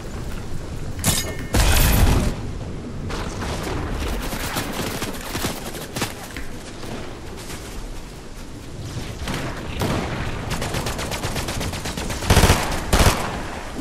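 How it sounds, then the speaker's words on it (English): Gunfire aimed at the player in Fortnite, with rapid bursts and single shots crackling throughout, several louder close volleys standing out over a busy, steady battle din. "Who's shooting me, bro?"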